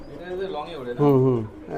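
A Lal Patti pigeon from Dhaka, of the Pankhi bloodline, cooing: a close, full, throaty coo rising in two swelling phrases, with the second louder.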